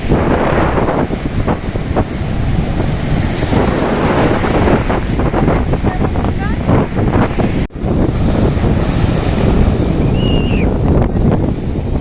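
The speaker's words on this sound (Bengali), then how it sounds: "ওই দেখো জোরে জোরে ঢেউগুলো আসছে" Strong sea waves break and surge at Marina Beach in Chennai, a loud continuous roar with heavy wind buffeting the microphone, and people talk faintly in the background.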